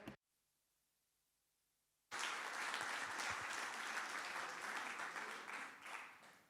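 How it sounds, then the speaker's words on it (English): After two seconds of near silence, a conference audience at an event on wood in a sustainable economy breaks into sudden, dense applause for the speakers that continues steadily before starting to taper. "I'd just like a round of applause for all of you."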